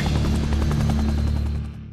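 A KAI light armed helicopter flies close by, its loud, steady rotor thump and turbine roar filling the scene before easing off slightly at the end.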